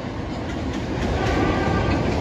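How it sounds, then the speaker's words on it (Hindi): A Navi Mumbai metro train on a trial run passes with a loud, steady rolling rumble and faint clatter of wheels on the track, building slightly as it goes by, with no voices. "मेट्रो का ट्रायल रन हो रहा है"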